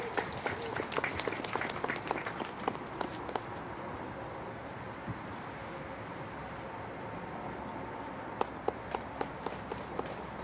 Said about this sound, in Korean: 박수로 환영하시기 바랍니다.